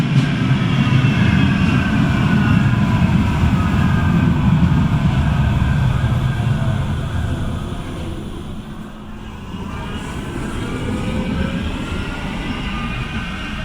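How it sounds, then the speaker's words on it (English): Manchester Metrolink tram on the Altrincham line pulling into Sale stop, a loud rolling rumble with wheel squeal and rail whine, dipping briefly as it slows before rising again. "The next thing you're going to see is a tram pulling into Sale, going to the next stop along the line of Brooklands"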